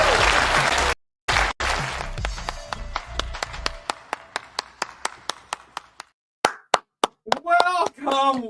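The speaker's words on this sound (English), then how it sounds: "Please clap." Scattered hand claps in a small group answer a call for applause, starting as a brief dense burst, then thinning into isolated single claps before voices and laughter take over near the end.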